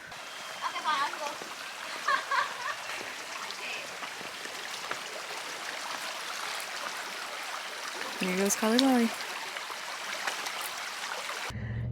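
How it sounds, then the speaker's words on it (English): River stream water flowing at a trail crossing on a Malibu hike, a soft continuous rushing wash with people talking over it. "We're at that point where we have to cross the like 7 rivers."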